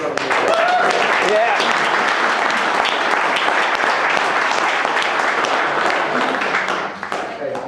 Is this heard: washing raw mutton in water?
no